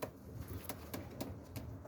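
A young white-and-blue Mardin pigeon, likely female, gives faint, soft cooing notes in a few short, evenly spaced pulses against a quiet background.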